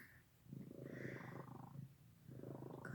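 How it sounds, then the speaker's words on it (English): A cat purrs softly and close up, a low rumbling rhythm rising and falling with each breath. "Got lots of purrs."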